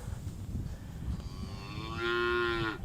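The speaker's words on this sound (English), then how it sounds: "Come on, little calves." Young calves moo on a farm, a single drawn-out bellow rising out of a rustling background, near and fairly loud at the end.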